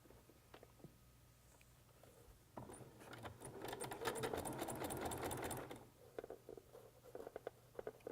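Sewing machine stitching quilt binding strips along a diagonal line: a few soft taps, then about three seconds of fast, steady, close mechanical whirring, followed by scattered quieter clicks and handling noises.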